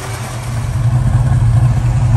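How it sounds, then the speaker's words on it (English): A Valiant Charger's big six-cylinder engine with a poor exhaust pipe idles close by, a loud, steady low rumble with a slight uneven pulse throughout. "So let's run the car for a while."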